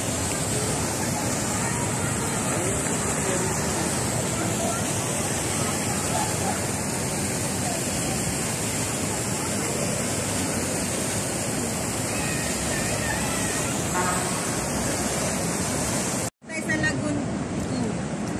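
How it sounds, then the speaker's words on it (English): Churning water of a resort beach club wave pool, a loud continuous rushing wash of surf that stays steady with a faint crowd murmur behind it, and it cuts out briefly near the end. "We're here right now at the wave pool."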